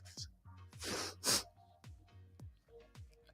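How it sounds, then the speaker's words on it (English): Close, forceful nasal blasts and snorts from someone with allergies, two loud bursts of nose blowing amid repeated short sniffs and low thumps. "Let me blow my nose."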